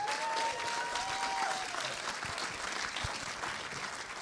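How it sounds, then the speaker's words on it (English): Audience applause at a conservative community event welcoming two speakers, a thick continuous wash of clapping from a sizable crowd that holds steady throughout, with a brief whistle early on. "Let's give a big round of applause to Chris Salcedo and Mark Meckler."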